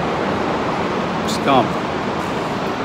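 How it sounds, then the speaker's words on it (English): Steady, heavy rain in Berlin hisses continuously in the background while a person briefly speaks indoors over it. "that's the rain, that sound you can hear is the rain."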